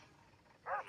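A dog in the video game Метель gives a single short bark near the end, faint and distant over a quiet background.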